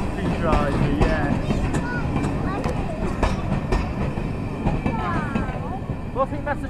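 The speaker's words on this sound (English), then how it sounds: "Well, I think that's the train." A vintage train rolls past at a locomotive works open day, giving a dense, continuous rumble with clacking and squealing wheel sounds throughout, under people talking.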